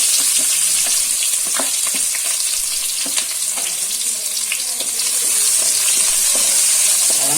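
Fennel seeds and small shallots fry in hot oil in a pan for an egg gravy, giving a dense, steady sizzle close by with occasional stirring clicks and no talking.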